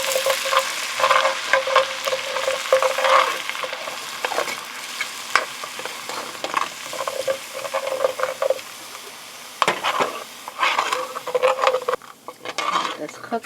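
Guinness poured into a pot of Irish stew sizzles steadily while a spoon stirs and scrapes through it, close and continuous with brief pauses and a few louder scrapes.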